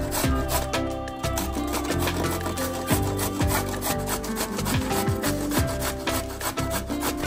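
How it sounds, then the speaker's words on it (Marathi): Carrots are grated on the large side of a hand grater for gajar halwa, making quick repeated rasping strokes at close range over steady background music. "आज मी गाजर किसून घेणार आहे"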